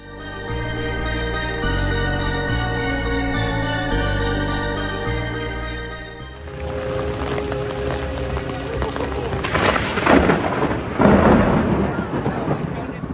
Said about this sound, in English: we finished with Monsters and came out to a thunderstorm